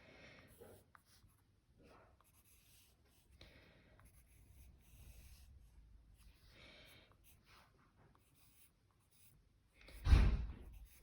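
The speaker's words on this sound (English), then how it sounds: "just sketching those bits in" A pencil sketches on paper in soft, quiet scratching strokes with pauses between them, ending with a louder brief rustle or bump near the end.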